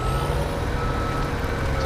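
Dump truck in Farming Simulator 2017 backing up, a steady reversing beep over a loud continuous diesel engine rumble throughout.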